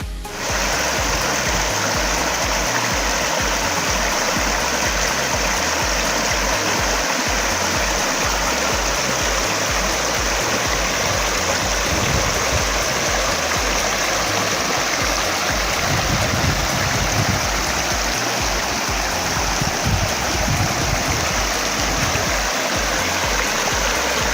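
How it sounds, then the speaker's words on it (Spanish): A clear stream near Villa Dolores in Córdoba's Traslasierra region runs with a steady, full rushing and babbling of water, close and continuous throughout, with no one talking. "Cómo corre el agua y transparente."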